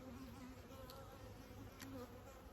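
Faint, steady honeybee buzzing drones throughout, a low hum with a couple of brief brighter whirs passing close, no voices.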